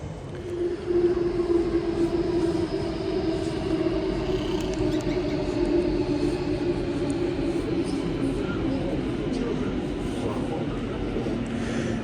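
A Sydney Metro train sits at an underground platform, its steady electric hum and motor drone droning continuously with broadband rumble, while a faint voice talks over it.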